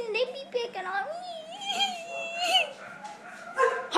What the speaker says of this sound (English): Dogs come to save me.